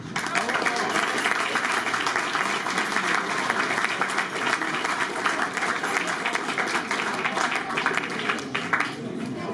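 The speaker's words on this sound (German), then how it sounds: "Riesen Applaus für Soka, Mandy und das ganze Team" Crowd at a carnival guild reception applauds warmly, a sustained, loud roll of many clapping hands lasting nearly ten seconds with a faint crowd murmur beneath.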